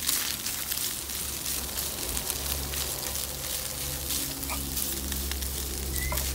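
Pork meat frying in melted butter in a pan, a loud, steady close sizzle and crackle that carries on without pause throughout, with no talking.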